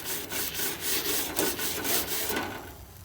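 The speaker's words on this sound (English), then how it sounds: "You can go and scrub in between the grates as well to get all of that nasty stuff off" A bristle-free stainless steel chainmail grill brush scrubbing stainless steel grill grates in quick back-and-forth strokes, a gritty rhythmic rasping close up, with no talk.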